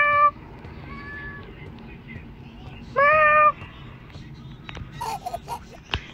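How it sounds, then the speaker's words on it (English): A house cat meows twice, clear and close: first a longer call, then a brighter one a few seconds later. Low background noise sits underneath, with faint rustling toward the end. "Is that my cat?"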